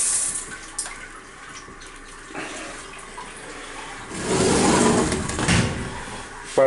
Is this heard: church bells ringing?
no